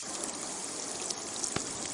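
Rain falls in a steady broadband wash on a comedy film set in India, with a constant hiss and patter at moderate level and no talk over it.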